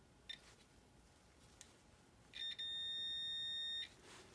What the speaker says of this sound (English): First thing I'll do is I'll just touch them and see if it beeps.